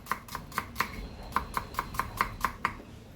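A knife chops white onions on a cutting board in a steady series of about eleven crisp, evenly spaced knocks, close and fairly soft, with no talk.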